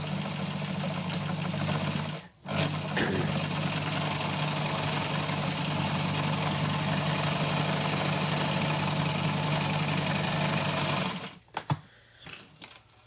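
A sewing machine stitching a basting row for gathering fabric, a steady, close mechanical whir running for about nine seconds after a brief start and pause, then stopping with a few small clicks.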